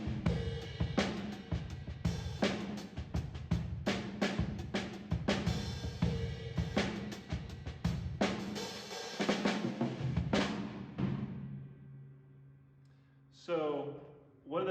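A drum set played with wooden sticks, with sharp repeated hits and cymbal wash in a steady groove, then tailing off into quiet ringing and a brief final flourish.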